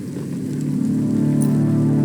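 Steady rain ambience in the video game Cloudpunk, falling outside a small restaurant, a continuous dense patter that swells slightly and holds at a constant, fairly loud level with no talking.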